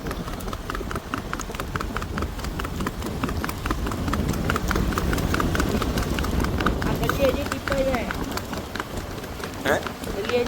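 A mare trots during a riding session, her hooves clip-clopping in a fast, even rhythm close by for the whole stretch, with people talking over it.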